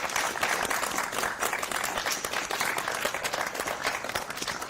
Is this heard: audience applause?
yes